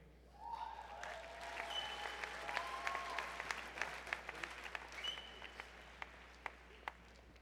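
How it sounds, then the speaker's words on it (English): Commencement crowd applauding doctoral degree recipients in a large hall, with sustained dense clapping that builds and then thins to scattered individual claps, moderately distant. "Please join the Dean in a round of applause for all our doctoral degree recipients."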